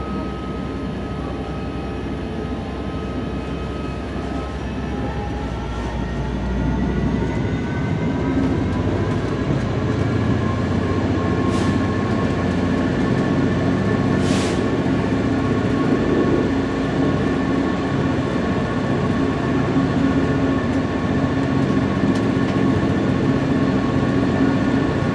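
A train approaching Shrewsbury rumbles steadily along the rails with a constant droning roar and occasional squeals, heard from inside the carriage.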